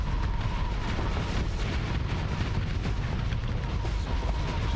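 Rapid ion cannon fire in a Starsector space battle, modded with Star Wars ships, forms a loud, unbroken wall of booming blasts and rumbling impacts.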